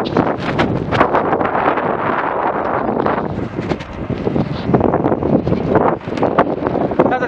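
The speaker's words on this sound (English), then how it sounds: "now I've definitely got the wind behind me" Steady, loud wind buffets the microphone during a long-distance road bike ride, a continuous rumbling roar that swells and dips without pause.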